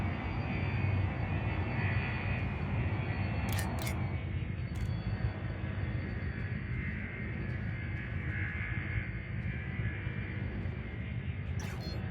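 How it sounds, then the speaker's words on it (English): A spaceship's frame shift drive charges in Elite Dangerous, producing a continuous deep engine-like rumble with a steady hum and a few short bright clicks, with no talking. "Frameshift drive charging."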